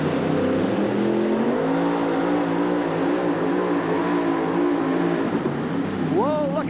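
The Bushmaster pulling truck's supercharged engine roars at full throttle at an Oakland USHRA event in 1987, a loud, sustained, droning blast that fills the arena. An announcer's voice rises briefly near the end.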